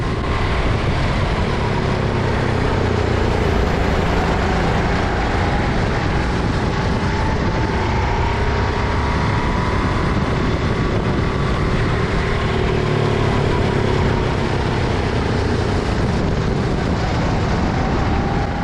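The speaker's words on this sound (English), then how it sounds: "Listen to the engine in these next 2 corners." A racing kart engine run flat out through two corners, loud and continuous with a droning, strained note that wavers and bogs slightly, dense wind and road noise throughout, no talking.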